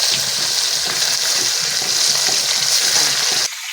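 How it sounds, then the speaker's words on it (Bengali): Bata fish from a pond, fried in a wok, produce a loud, dense, continuous sizzle with faint stirring, close up and with no voices, cutting off abruptly near the end. "মাছগুলো একটা একটা করে ভেজে নেব"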